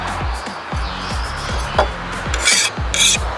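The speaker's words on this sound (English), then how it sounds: "I got a file out here and I'm just gonna go around these edges" A hand file rasps along the edges of a handmade metal roof rack bracket for a vintage Volkswagen Bug or Bus, deburring it in quick, close, rhythmic back-and-forth strokes with no talking.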